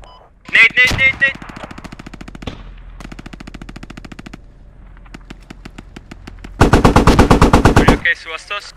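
Automatic gunfire in the video game Squad rattles out in loud, close bursts of rapid shots, with pauses between volleys and a voice speaking in between.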